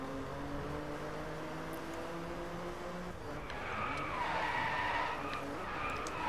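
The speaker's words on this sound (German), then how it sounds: "Ach komm, das war doch ein schöner Drift." Tires skid and squeal through a long drift in the racing video game Driveclub, with engine drone underneath and a rising screech in the second half, loud and continuous.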